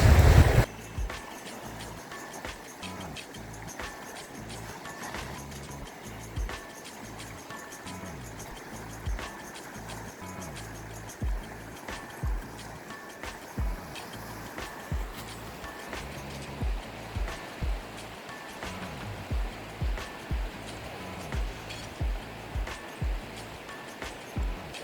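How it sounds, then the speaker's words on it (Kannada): A mountain river flowing near Chandrataal, a soft, steady rush of water at moderate distance with faint rhythmic knocks and splashes throughout, and no talking. "ನದಿ ಹತ್ರ ಇದ್ದೀನಿ ನಾನಿವಾಗ"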